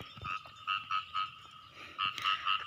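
Frogs croak outdoors in a sown rice field, a chorus of repeated pulsing calls in steady bursts, moderately loud and close, with no voices.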